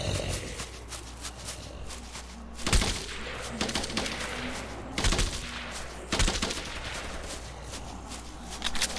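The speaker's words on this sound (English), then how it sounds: "don't worry about the sound of gunfire going off there" Gunfire in the video game Night of the Dead, bursts of rapid shots crackling at intervals over a low ambient game background.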